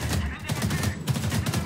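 Rapid automatic gunfire from a firefight in the shooter game Homefront: The Revolution, a dense, loud burst of repeated shots without pause.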